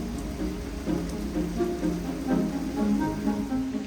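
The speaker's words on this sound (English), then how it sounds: "This week begins with some light rain" Light rain falls steadily around a house renovation site on Iris Street, a soft continuous patter of drops with no voices.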